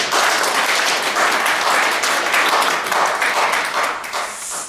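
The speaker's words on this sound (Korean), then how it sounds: "권영국 변호사님을 큰 박수로 맞아주십시오." Warm, sustained applause fills a community gathering room as lawyer Kwon Young-guk is welcomed, steady dense clapping from a sizable crowd that tapers off at the end.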